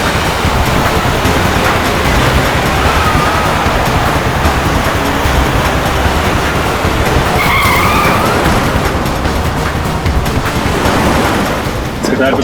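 A car being driven recklessly, tires skidding and screeching over a loud, continuous engine roar, with a couple of higher squeals standing out partway through.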